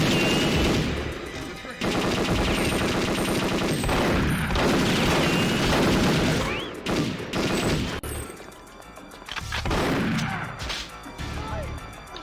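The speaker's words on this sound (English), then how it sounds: "Thanks for shooting the body of the guy I already took out, Mr. Jonathan." Video game gunfire in an Area 51 raid, with dense rapid machine-gun bursts and crashes that carry on loudly for most of the stretch and thin out briefly near the end.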